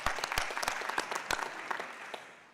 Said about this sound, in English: This is where we applaud for you